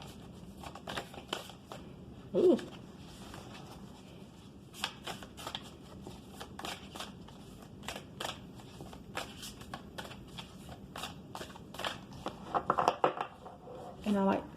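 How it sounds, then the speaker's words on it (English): A deck of tarot cards is shuffled in repeated quick riffling bursts, close and crisp, with short pauses between rounds and a brief murmured voice in the middle. "So I'll shuffle 6 times."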